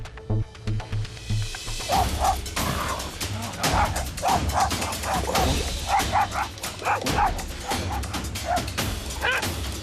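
A terrier mix dog in Los Angeles barks and yips over and over in quick, excited bursts, loud and close, with some whimpering and people talking underneath.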